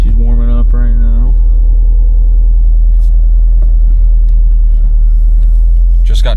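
A Subaru WRX STI tuned to about 300 wheel horsepower idles while warming up. Its engine gives a steady, loud, low rumble throughout, and a voice speaks briefly over it near the start.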